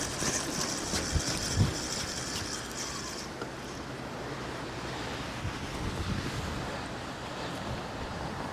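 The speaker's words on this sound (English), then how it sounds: "Wind's going right to left, 40 plus mile an hour winds" Strong shore wind, over 40 mph, roars steadily across the microphone beside breaking surf on a winter beach, a constant loud rush with occasional gusty thumps.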